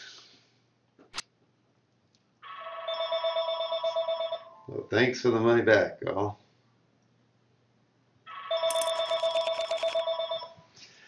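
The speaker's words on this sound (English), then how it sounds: "You're going to have to excuse the phone." A telephone bell rings in two long bursts of rapid repeating trills in the background of an online poker coaching session, with someone speaking briefly between the rings.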